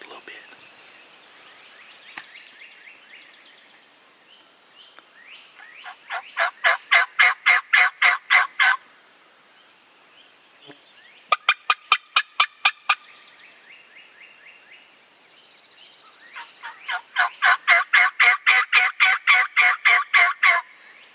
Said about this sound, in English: we're going to try to piss him off with some gobbles and get it done this morning